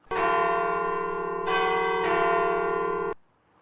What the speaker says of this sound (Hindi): घंटा घर का घंटा बजा